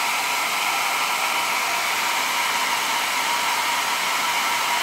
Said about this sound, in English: I'm gonna put the hairdryer right here on speed